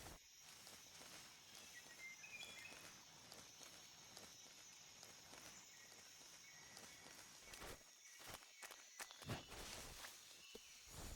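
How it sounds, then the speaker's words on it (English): Footsteps in the stealth video game Metal Gear Solid 3 (Snake Eater), soft and irregular beneath a steady jungle ambience of insect-like buzzing, with a few sharper thuds and rustles near the end. "I hear footsteps that way, but I don't see anybody."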